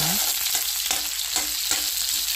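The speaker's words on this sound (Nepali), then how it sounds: "अनि तेल खरिसकेको छ अनि यसमा सुक्खा खोर्सानी हाल्यो अनि प्याज र सुक्खा खोर्सानी हालेर एकछिन यसलाई चाहिँ चलाउनुपर्छ" Onion and dry red chillies sizzle in hot oil while being stirred, a steady close frying hiss broken by scraping strokes of a spoon in the pan, with no voices.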